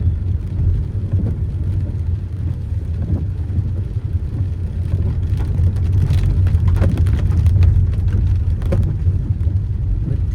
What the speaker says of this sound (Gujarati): પણ વરસાદ છે